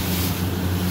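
Waves break near rocks, heard from a boat at sea, as a loud, close rush of surf mixed with buffeting wind noise, steady for the whole second.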